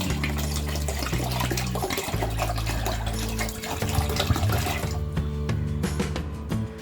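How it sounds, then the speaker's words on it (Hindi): Water gushes steadily from a faucet into a bowl of rinsed rice, urad dal and fenugreek seeds, a continuous splashing rush that softens slightly toward the end. "इसमें हम पानी डालेंगे।"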